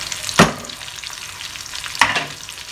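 Cucumber moru curry stirred in a pan, two sharp scraping clacks of the spoon about a second and a half apart over a faint background hiss.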